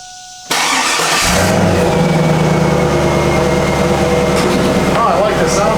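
A 2002 Pontiac Trans Am WS6 with its LS1 V8 cranks over and fires up loud and close, settling into a deep rumbling idle with revving that holds steady through the rest of the clip.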